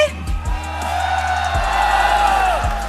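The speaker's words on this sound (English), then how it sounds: "I hear the crowd, but can this crowd go even wider?" Esports arena crowd at MBSJ during an MPL Malaysia match, cheering and whooping in a broad sustained roar with a few low thumps, loud and continuous throughout.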